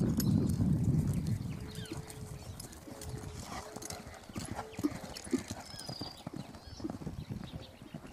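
A ranch work horse about 1.47 m tall walks on firm ground, its hooves clip-clopping in a steady, irregular rhythm at close range, with occasional soft snorts and no talk.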